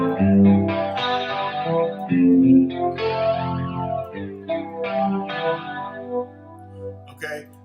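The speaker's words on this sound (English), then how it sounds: "that's a very typical flanger sound" Electric guitar through a flanger effect, with chords and single notes carrying a sweeping, whooshing comb-filter swirl that rises and falls, moderately loud and played alone.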